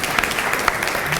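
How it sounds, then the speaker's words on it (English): An audience at an expert panel on civic tech applauds in a brief, dense burst of clapping, fairly loud and continuous throughout. "Nice round of applause for you, Alaina."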